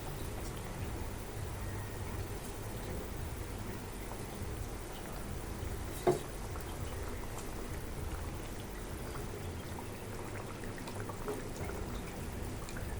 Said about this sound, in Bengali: তো দেখো তোমরা এটা অনেকটা ফুটে গেছে এবার আমি মাছগুলো একটা একটা করে এর মধ্যে